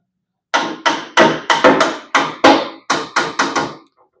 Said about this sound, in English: I'm going to take a hammer and turn it.